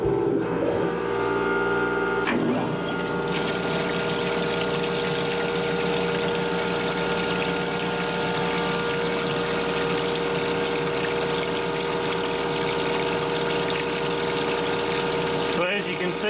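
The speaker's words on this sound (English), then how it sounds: "let me fire this up and we'll grind one and see if it made a difference" A surface grinder starts up with its coolant pump, then hums steadily with a tonal mechanical whine and a rushing flow of coolant, close and continuous, with a brief shift near the end.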